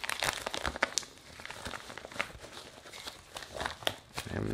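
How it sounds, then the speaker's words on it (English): Stickers being unwrapped from their package, with bursts of close crinkling and crackling plastic and paper, a few sharper tearing rips, and short pauses between handlings. "But I did just get some stickers in. So let me open these up real quick."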